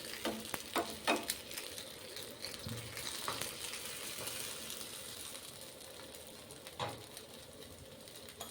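Batter added to hot oil in a pan for a quick children's snack, a soft continuous sizzle with scattered clicks and scrapes of a utensil, fairly faint and close.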